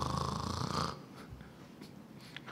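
A voice imitating a snoring breath with a rasping throaty "kha" sound during a religious lecture, one loud drawn-out rasp that then fades into quiet room noise.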